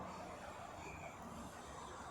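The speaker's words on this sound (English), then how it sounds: "there's road noise, constant road noise." Faint, constant road traffic noise hums steadily in the background near the sea, a dull, even wash with no distinct vehicles standing out.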